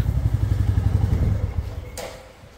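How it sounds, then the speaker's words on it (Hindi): A Royal Enfield Classic 350 motorcycle runs close by with a loud thumping single-cylinder pulse that fades away, followed by a single sharp click near the end, with no talk. "ऑन करता हूँ एक बार बाइक को, ये ऑन हो गई।"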